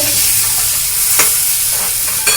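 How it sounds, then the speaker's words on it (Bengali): Chickpea paste stirred and fried in oil in a pan gives a loud, steady sizzle close up, broken by a couple of sharp spatula scrapes, with no talk. "এটাকে ভালো করে নেড়ে নেড়ে কষে নিতে হবে তেলেতে"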